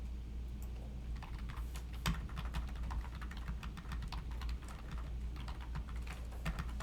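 Fast typing on a computer keyboard, with dense irregular clicking keystrokes at close range, fairly quiet and continuous without any talk.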